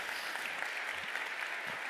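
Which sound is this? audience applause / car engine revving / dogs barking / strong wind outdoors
audience applause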